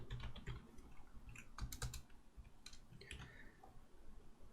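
Computer keyboard typing, quiet and close, with irregular clusters of light clicking keystrokes and brief pauses between bursts.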